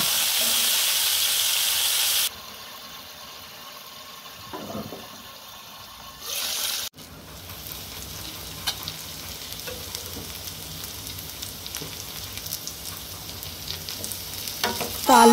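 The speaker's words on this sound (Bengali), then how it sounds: "আলুগুলো প্রায় ফ্রাই করা হয়ে গেছে" Potatoes fry in oil that was just used for frying pointed gourd, giving a steady crackling sizzle with a few louder clatters and stirring bursts early on, continuing close and moderately loud throughout.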